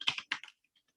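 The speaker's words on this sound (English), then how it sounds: "I'm just typing what I had" Typing on a computer keyboard while writing Python code, a quick run of several crisp key clicks in two short bursts, then near silence with a couple of faint taps.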